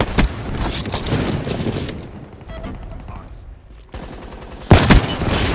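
Sniper and other gunfire in a first-person shooter video game ring out as sharp, loud shots over a busy game mix, with a burst at the start and a heavy blast near the end, amid in-game voice chatter.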